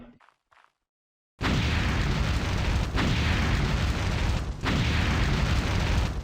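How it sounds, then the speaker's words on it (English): A fire spell explodes in Mount & Blade Warband: after a short quiet pause, a sudden loud blast bursts into a sustained roaring rumble with further flaring bursts, close and dense throughout, no voices. "Let's go test the fire spell out."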